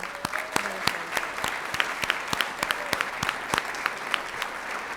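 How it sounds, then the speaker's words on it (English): Scattered, fairly sparse clapping from a school district governing board meeting audience welcoming new board members, with distinct individual claps spread steadily over the whole stretch at moderate loudness. "Can we get one final round of applause for our new"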